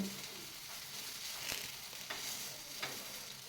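A wheat flour and egg paratha roasts on a pan while being pressed down, giving a faint, steady sizzle broken by a few soft scraping presses.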